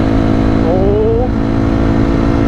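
A Honda CRF 250R dirt bike engine runs loud and close, with one brief upward rev sweeping through the middle of an otherwise steady drone.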